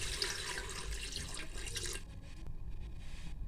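Water is poured into a pressure cooker holding beef, a splashing rush for about two seconds before it cuts off into quiet with faint drips.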